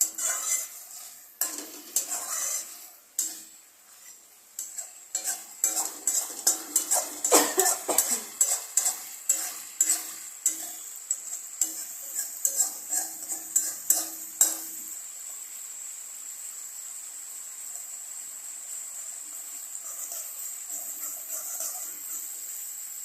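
A spoon scrapes and knocks around a pan of Bengali fali fish curry loosened with a little water, at first sporadic and then a fast run of rhythmic clinks, fading into a soft low sizzle.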